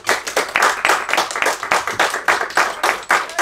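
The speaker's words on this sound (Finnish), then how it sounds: "kunnon aplodit, jei!" Audience applause at a live stand-up comedy club night welcoming the first performer, loud close rhythmic clapping in a brisk steady beat, partly in unison, continuing throughout.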